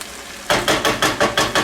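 Ground beef and vegetables get stirred around a frying pan in six rhythmic scraping sweeps with a soft sizzle underneath, close and fairly loud after a quiet start.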